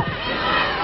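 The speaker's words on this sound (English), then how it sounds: "We have a more modest crowd here." A modest stadium crowd at a 1995 Women's World Cup match between the USA and China, a brief loud roar of massed voices and shouting.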